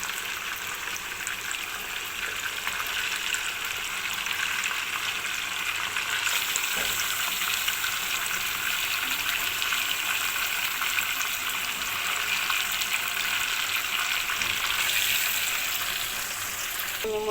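Chicken pieces fry in oil in a pan for a chicken korma, giving a steady, moderately loud sizzle and crackle that holds evenly throughout, with faint stirring and no voices.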